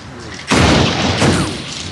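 Gunfire in Torchlight 2 rings out as a loud, sharp burst of shots followed by a second crackling volley moments later, close and dominant.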